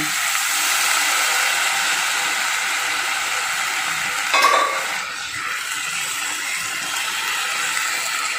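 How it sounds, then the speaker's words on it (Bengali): A spoonful of potato, semolina and rice flour batter drops into hot oil in a wok, with a steady broad sizzle throughout, a brief louder burst as the batter lands, then settling back to a continuous fry. "তেলটা কিন্তু গরম হয়ে গেছে এবার আমি এক চামচ দিয়ে দিচ্ছি"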